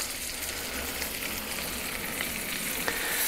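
Pieces frying skin-side down in a pan of butter and olive oil, giving a steady, close hiss of sizzling fat with a few sharp pops and no talking.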